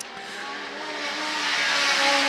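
Legend race cars roar around a racetrack, a steady loud engine drone that builds gradually as the cars approach, with no voices over it.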